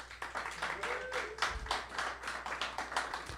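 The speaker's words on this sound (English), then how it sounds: "please reply by applause." A modest audience claps in response to a question at a live event, giving a steady patter of hand claps with rhythmic bursts throughout, fairly faint and close.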